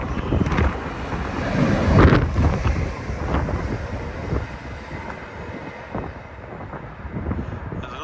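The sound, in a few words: Northern passenger train passing, from Blackpool towards Leeds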